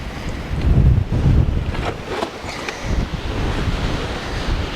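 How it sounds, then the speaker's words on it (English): Strong wind buffeting a microphone on a hilltop, loud gusting rumble that swells and eases over several seconds, close and continuous, no voices. "it's windy, windy, windy up here."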